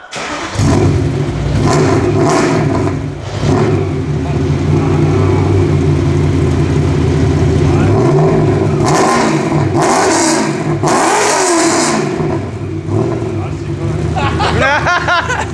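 A BMW 1M with a V8 engine and X-pipe exhaust revs hard several times, its note rising and falling in loud, close sweeps over a rumbling idle, while people talk around it.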